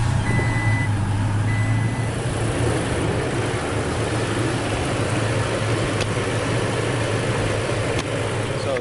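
A 2016-2021 Toyota Tacoma pickup runs at a steady idle close by, a constant low engine rumble that never lets up, with a couple of faint high beeps early on and no talking.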